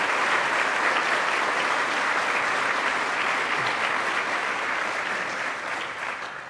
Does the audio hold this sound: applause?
yes